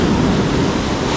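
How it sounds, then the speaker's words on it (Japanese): Ocean surf on a beach, a dense, loud wash of breaking waves and rushing water mixed with wind noise on the microphone, continuous and steady with no voices. "隣波高いね。"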